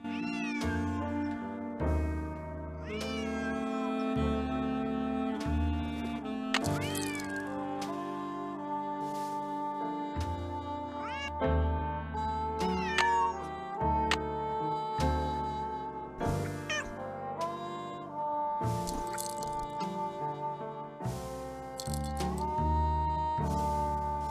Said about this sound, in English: Find the toy mouse and give it to Yuri, would you please? Otherwise, he'll just keep meowing.